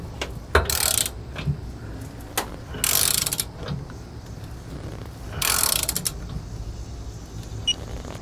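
A ratchet tightens bolts on a Blue Ox gooseneck-to-5th-wheel trailer hitch adapter. Three separate bursts of rapid clicking ratcheting come up close, with short pauses and faint handling noises between them.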